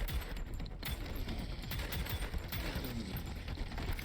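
Pistol and shotgun gunfire in the first-person shooter Prodeus, a dense, fairly quiet stream of rapid shots and impacts layered over game sound with no pauses.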